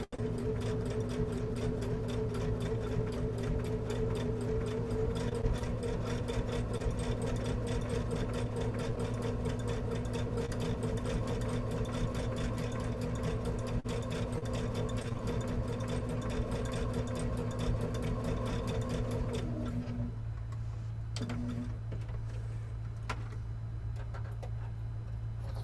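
Sewing machine stitching fabric-wrapped rope, a steady fast mechanical whir and ticking hum that runs continuously close up and stops briefly near the end before resuming.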